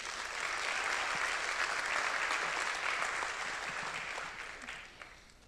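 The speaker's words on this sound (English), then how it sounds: "give yourselves a round of applause one more time" Applause from an audience at a city awards ceremony, dense and steady for several seconds before tapering off near the end, with no voices over it.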